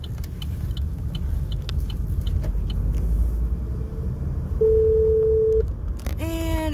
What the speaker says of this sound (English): You have an incoming call.